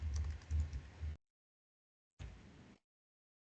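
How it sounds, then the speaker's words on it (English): Computer keyboard typing in short bursts of soft, close clicking, separated by a silent gap, with no talk over it. "let me just type it"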